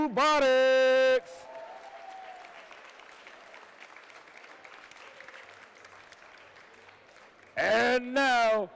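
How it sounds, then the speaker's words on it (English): An audience applauds at a FIRST Tech Challenge robotics qualifier in Washington, DC. Sustained clapping from a large crowd fills the hall between loud tonal blasts at the start and end. "Once again, a big round of applause for Phoenix.exe and Oakton Cougar"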